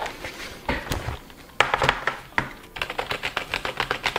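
Typing on a wireless Logitech keyboard in short bursts of crisp, fairly high-pitched clicks, close by, with brief pauses between runs of keystrokes.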